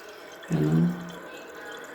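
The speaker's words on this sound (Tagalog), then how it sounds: "So, nagpapasok pa ng tubig." Water rushes briefly into a toilet tank that is being repaired for a flushing fault, a short gushing burst that rises and fades within half a second over quiet background hiss.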